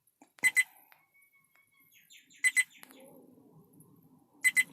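Viofo A129 Duo dash cam giving repeated double beeps, three pairs spaced about two seconds apart, close and clear, with faint movement and handling noise between them.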